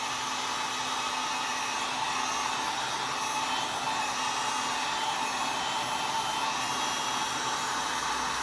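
Heat gun softening glue on a Hasbro Ghostbusters wand during a GPSTAR 2 kit install, blowing a continuous, even, close rushing whoosh without pauses.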